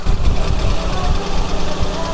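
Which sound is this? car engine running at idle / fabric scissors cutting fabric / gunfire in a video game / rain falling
car engine running at idle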